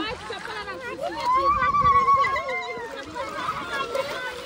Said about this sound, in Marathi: नदी बघा काय आवाज आहे